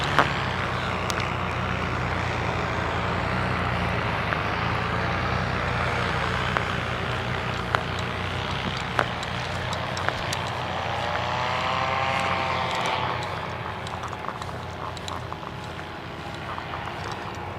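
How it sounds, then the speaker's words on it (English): A paramotor engine and propeller in flight give a loud, continuous buzzing drone that rises and falls slightly in pitch, steady throughout with no break. "The bike and the paramotor."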